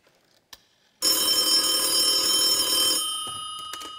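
A telephone rings loudly and continuously for about two seconds during a Cantonese stage musical performance, with a bright metallic bell tone that then fades into quieter stage ambience.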